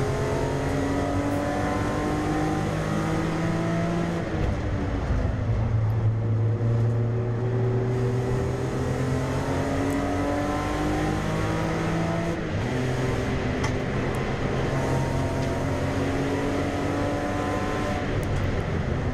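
A BMW E90 325i race car at speed on the Nürburgring Nordschleife, its engine droning loud and steady with rising and falling pitch through gear changes and braking, no talk heard.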